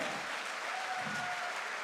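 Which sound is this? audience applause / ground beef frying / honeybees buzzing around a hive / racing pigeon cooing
audience applause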